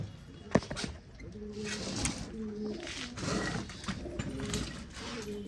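Hobby pigeons coo repeatedly nearby in low, rolling phrases, with a sharp click early on and light shuffling noise between calls.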